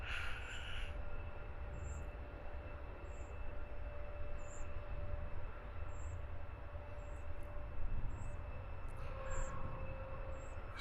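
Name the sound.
Airbus A321neo jet at Luton Airport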